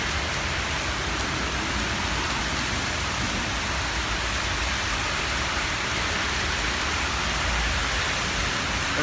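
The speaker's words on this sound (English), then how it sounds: "Too much rain too quickly." Heavy rain pours down on a street in Melbourne, a dense, loud, unbroken roar of drops hitting the ground and standing water, close and steady with no voices.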